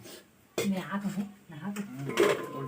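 A metal cooking pot gets its lid set on while Hindi-style dal with pumpkin simmers: a clanking knock near the start, then scraping and rattling metal contact, with a voice speaking over it.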